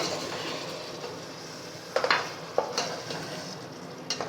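Blended tomatoes with ginger-garlic masala sautéing in a pan for malai beef kofta, a low steady sizzle with a few sharp scrapes and taps of a spoon midway, close and quiet, no talking.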